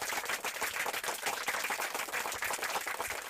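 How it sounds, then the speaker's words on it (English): A crowd of people clapping continuously and fairly loudly, a dense, steady patter of many hands with no pauses, heard near and with no talking over it. "let's clap it up for bro"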